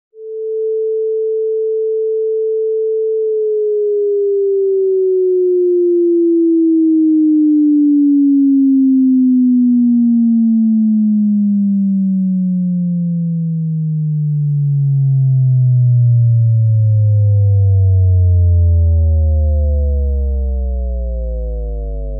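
A pure sine wave tone holds a steady pitch for a few seconds, then glides smoothly and continuously lower, turning buzzy and rough as it sinks toward the bottom of the audible range.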